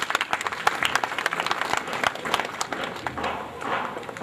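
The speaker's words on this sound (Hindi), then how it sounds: "जोरदार तालियों से" Dense, lively applause from a crowd at a school welcome ceremony at Sainik Inter College in Bahraich, with many hands clapping fast and unevenly throughout.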